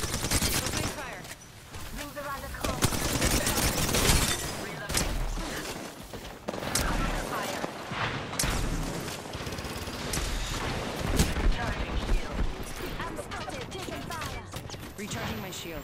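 Sustained gunfire from a video game battle royale match in Apex Legends, with bursts of automatic weapon shots and explosions running loudly and almost continuously throughout, layered with dense game effects.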